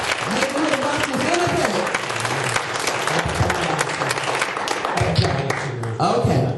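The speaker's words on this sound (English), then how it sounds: "If you believe that, clap your hands one final time." Residents clapping at a Sauk Village board meeting about neighborhood watch, a sustained, dense round of applause with voices talking and calling out beneath it throughout.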